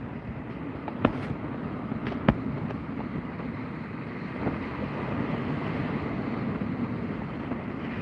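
Wind blows steadily across the water during kayak fishing, a broad low rushing roar buffeting the microphone, with a couple of faint knocks and clicks from gear.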